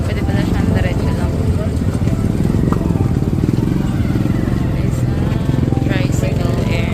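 Motorized tricycle engine in Boracay, Philippines, a steady, close, buzzing drone that runs throughout with a rattling, clattery edge, while voices talk over it.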